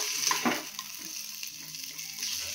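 Onions frying in oil with turmeric and ginger-garlic paste while being stirred: a steady close sizzle with scraping stir strokes and small spatters.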